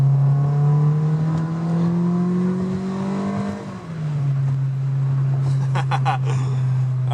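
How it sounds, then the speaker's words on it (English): A car engine hums steadily, rising in pitch as it revs, then drops and settles into a lower drone, with faint clicks near the end. "I love the sound of the car."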